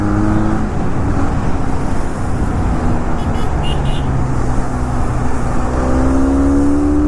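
A Benelli 502C motorcycle cruises on an open road with a loud, continuous engine drone and heavy wind rush, the engine note rising slightly toward the end.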